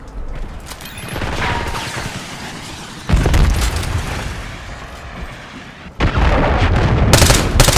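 An Archangel missile launcher firing in a video game: loud, close blasts and rumbling booms, with sharp bursts erupting twice over a dense background of gunfire and mechanical noise.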